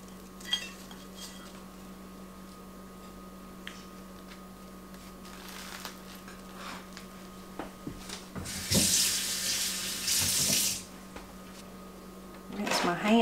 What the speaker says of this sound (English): Rinse my hands a little.